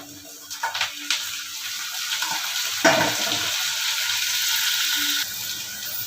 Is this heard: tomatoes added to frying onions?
yes